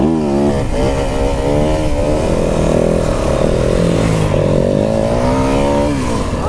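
Motorcycle engine running while being ridden, a loud, close, continuous roar with rising and falling revs and no talk over it.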